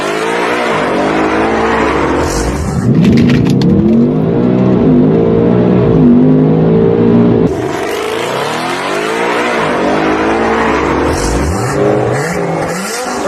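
A 2024 Ford Mustang fitted with a Whipple supercharger makes a quarter-mile drag run, its engine roaring loudly through rising revs with gear shifts and a sustained high-power pull, close and dominant without talk.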